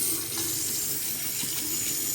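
Hotel bathroom sink tap at the Hyatt Regency Salt Lake City runs at full pressure, a steady, close, broadband rush of water with no voices.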